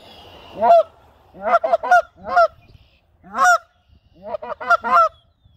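Geese honking overhead during a spring hunt, a series of loud, close honks in irregular clusters, some in quick doubled bursts, with quiet gaps between them.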